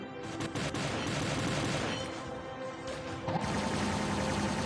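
Dune long-range artillery weapon firing in the War Robots game: a dense run of loud, crackling gunfire bursts in rapid succession, with a heavier blast near the end and no talk.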